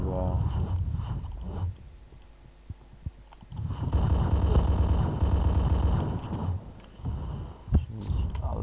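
Gunfire from a PP-Bizon submachine gun in Point Blank comes in short bursts, quieting briefly before a loud sustained volley of rapid shots, with a voice heard in places.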